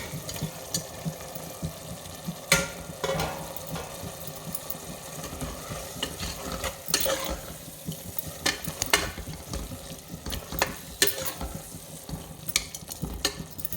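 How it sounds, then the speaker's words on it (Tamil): Chopped tomatoes sauté with mint and coriander leaves in a pan for salna, sending up a continuous crackling sizzle punctuated by repeated scraping and stirring strokes over a low background hum, with no voices. "இப்போ இது வதங்கிட்டே இருக்கட்டும்"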